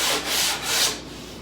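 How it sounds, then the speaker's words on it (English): Wooden sideboard pieces being hand-sanded, with a few steady back-and-forth rubbing strokes that are close and fairly loud, then fading toward the end; no talking. "I'll give them a little sand."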